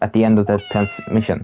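A voice asks a question while a drawn-out cat meow from the video game Phoenix Wright: Ace Attorney – Justice for All plays over the talk, clear and close.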